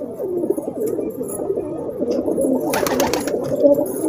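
A large male pigeon coos steadily up close in low, throaty murmurs, with a short rustling burst partway through.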